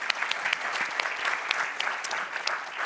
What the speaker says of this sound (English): You may give her a round of applause,